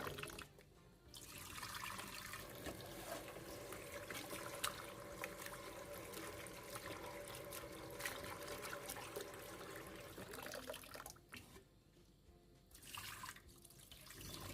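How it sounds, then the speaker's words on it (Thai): Pickled bamboo shoots being washed in water, a continuous splashing, trickling wash with steady running water and a brief pause and change in the flow near the end. "นำหน่อไม้ดองมาล้างก่อนนะคะเพื่อจะช่วยลดความเปรี้ยว ล้างหลายๆน้ำเลยค่ะ"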